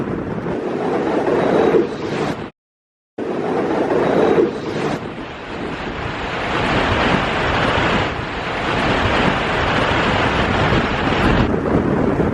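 Strong gusting wind buffets the microphone over crashing surf on the Cornish coast at Mawgan Porth near Newquay as Storm Arwen approaches, a loud, roaring, unbroken wash with a momentary dropout early on.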